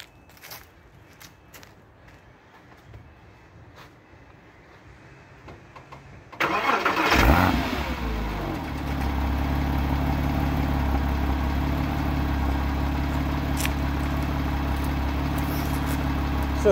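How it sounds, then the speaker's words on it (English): A car engine cold start after sitting 16 to 17 hours: quiet room tone, then a short cranking burst and catch, settling into a steady, even idle that drones on to the end. "we're doing about a 16 or 17 hour cold start"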